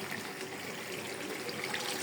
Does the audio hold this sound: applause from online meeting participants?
no